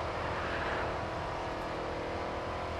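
A V8 engine of an American-style car in Grid 2 drones loudly and steadily at high revs, a continuous close roar with no pauses and no talk.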